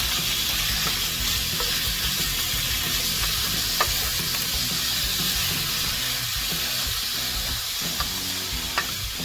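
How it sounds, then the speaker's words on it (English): Pork sizzling and frying in hot oil in a pan for teriyaki pork, a steady dense crackle with scattered sharper pops and stirring, close and continuous with no talking. "we are going to take our pork, throw it in there"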